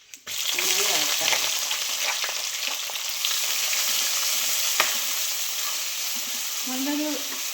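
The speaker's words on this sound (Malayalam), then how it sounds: "പച്ചമുളക് പോയിട്ട് നന്നായി വഴറ്റാം." Green chillies, crushed garlic and ginger sauté in hot oil for a Kerala-style sardine curry. A loud, steady sizzle starts abruptly and runs close throughout, with occasional stirring scrapes.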